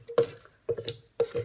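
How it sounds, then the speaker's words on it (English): Carrot and ginger soup with added water and pink Himalayan salt is stirred in a pot, making three close, wet sloshing swishes at an even pace, with no talking. "I'm going to give it a good stir."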